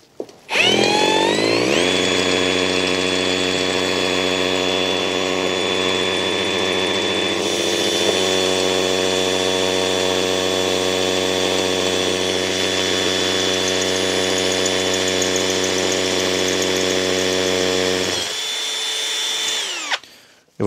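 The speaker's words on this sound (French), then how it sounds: "je vais attaquer le perçage de mon parpaing avec un forêt de 8 mm" An Einhell Professional TP CD 18/120 Li BL cordless hammer drill bores an 8 mm bit into a concrete block, with a loud, steady high-pitched motor whine and hammering rattle that runs for nearly twenty seconds before winding down.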